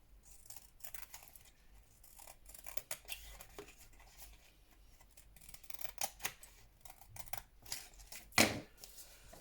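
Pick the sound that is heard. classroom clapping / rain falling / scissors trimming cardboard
scissors trimming cardboard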